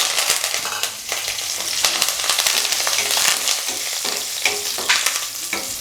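Garlic cloves and curry leaves sauté in hot oil for a tempering, a loud, dense, close sizzle with scattered scraping stirs throughout and no voices.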